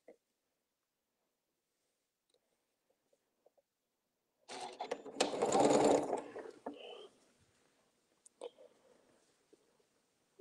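A sewing machine stitching a quilted table mat runs in one burst of about three seconds, a close whirring hum after a quiet lead-in, followed by a few soft clicks and handling taps.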